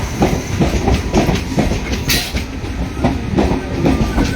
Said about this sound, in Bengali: কোথায় ট্রেন এসে গেল আমতা থেকে